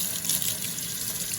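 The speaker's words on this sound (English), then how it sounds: "rinse it under the warm water." Warm water runs steadily from a tap over a dishwasher filter in a sink, a continuous close hiss and splatter with no voices.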